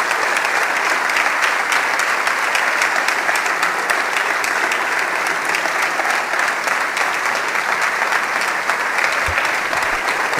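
A hall full of people at a city day ceremony in Póvoa de Varzim gives a standing ovation, with dense, even, loud clapping that continues without a break for over ten seconds.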